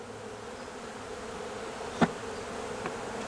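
Honeybees buzzing in a hive a week after a swarm was collected, a faint, steady hum with one sharp close knock partway through.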